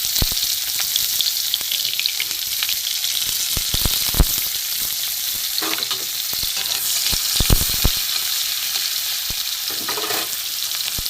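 Onions sizzle and crackle steadily in hot oil in a wok, a dense continuous frying hiss with scattered louder pops and stirring clicks, close and alone with no talking.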